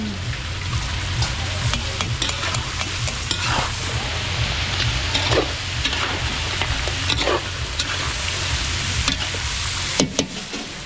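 Alimasag crab cooks in a covered pan at a large outdoor event, giving a loud, continuous sizzle with bursts of sharp spattering and crackles throughout and a clatter near the end.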